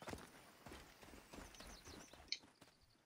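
A horse's hooves clip-clop at a steady walking pace in Assassin's Creed Origins, moderately close over soft game ambience, with a short bright chime near the end.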